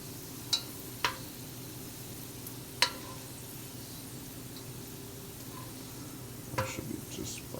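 Beef and bell peppers stir-fry in a pan with a faint continuous sizzle, broken by a few sharp clicks of utensils against the pan and light stirring clatter.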